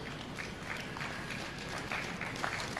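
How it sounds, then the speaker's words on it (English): Applause for kids at a county swine show, a faint, steady patter of clapping from a small crowd, heard at a distance and spread evenly across the moment. "Let's give these kids a round of applause."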